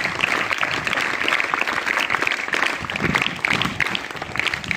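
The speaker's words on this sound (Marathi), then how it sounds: "8वी आणि 9वी साठी 3 टाळ्या देऊन त्यांचं स्वागत करायचं आहे" A group of students at a school assembly applauds together in a sustained burst of dense, loud clapping that holds steady for several seconds.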